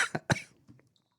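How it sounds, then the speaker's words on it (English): A couple of sharp, close coughs in quick succession after a sip of highly carbonated beer, followed by a faint throat rasp, brief and otherwise quiet. "Why am I coughing from this beer? It's highly carbonated."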